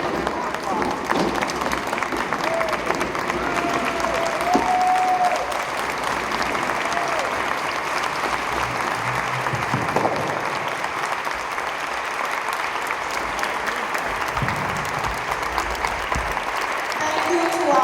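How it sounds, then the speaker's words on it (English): Sustained applause from the crowd at an urban planning forum in Buffalo, thick continuous clapping that holds steady and fairly loud throughout, with some voices mixed in. "We should give them a round of applause."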